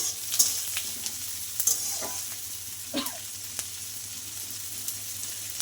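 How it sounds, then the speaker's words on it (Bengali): Onion and garlic crackle and sizzle in oil in a pan, with a few sharp clinks and stirring scrapes, steady and close. "পেঁয়াজটা কিন্তু ভাজা হয়ে গেছে"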